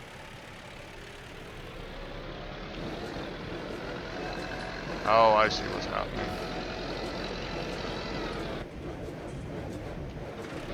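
Tractor engine in Farming Simulator 19, a steady low droning rumble that holds for the whole stretch, with a brief squeal in the middle and someone talking over it.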